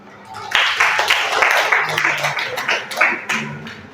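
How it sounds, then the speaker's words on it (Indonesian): Applause in a classroom or training session, a group clapping in a dense, uneven patter that builds quickly and holds steady, close by, with a few faint voices underneath. "Silakan, tepuk tangan."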